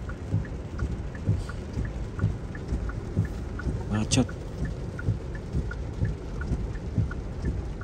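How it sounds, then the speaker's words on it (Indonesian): Heavy rain drums steadily on a Hyundai IONIQ 5 electric car during a road trip through a thunderstorm. Drops patter in a constant wash, a sharp thunder crack strikes midway, and a person speaks briefly. "Ini petirnya luar biasa dari tadi"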